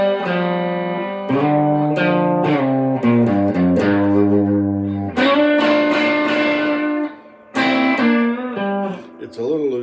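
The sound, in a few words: Fender Stratocaster electric guitar playing bends with distortion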